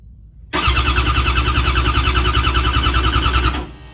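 An old motorcycle engine starting up: silence, then a sudden loud catch into a fast, throbbing idle with a steady rhythmic pulse, close by, cutting off abruptly after about three seconds.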